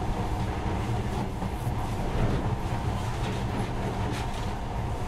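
A monorail train running in the video game Metro: Last Light: a loud, continuous rumbling roar with rattling and clanking layered on top, steady throughout with no speech.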